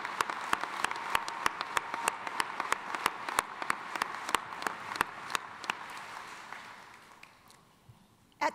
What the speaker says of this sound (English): Let's have a round of applause in appreciation for each other.